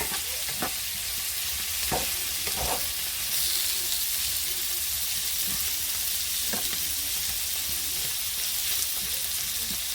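Vegetables with garlic frying in a pan give off a steady soft sizzle, with occasional sharp clicks of stirring and scraping against the pan, close and fairly quiet throughout.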